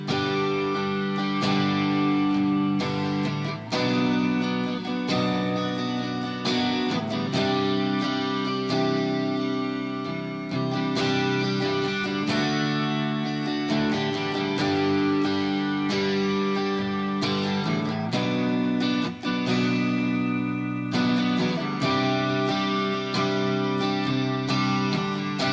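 Electric guitar strums the verse chords of a song in steady rhythm, with a full sustained sound.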